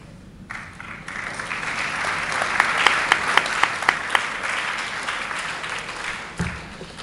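Audience at a 2004 Copley High School awards assembly breaking into applause: clapping swells from a quiet start to a steady, fairly loud round with a few sharp standout claps, then tapers off near the end.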